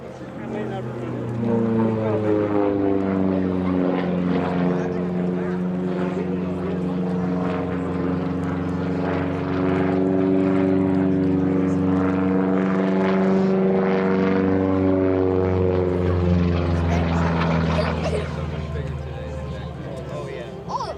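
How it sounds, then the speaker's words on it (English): A P-47D Thunderbolt with an R-2800 radial engine flies past at an airshow, its loud, steady propeller drone swelling and fading over about twenty seconds while an announcer talks over it. "Coming in on the right, Bernie Vasquez, the P-47 Thunderbolt recall bomber."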